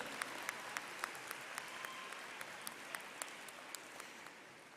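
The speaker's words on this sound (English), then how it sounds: "Can we give our 8th graders a round of applause" Applause for eighth graders at a 2022 school promotion ceremony, a steady wash of clapping from a crowd heard from a distance, fairly faint and continuous throughout.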